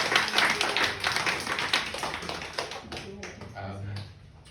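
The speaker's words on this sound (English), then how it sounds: "Can we just give them an extra round of applause?" Audience clapping for stage performers in a large event space, a burst of steady claps that gradually tapers off, with voices talking over and after it.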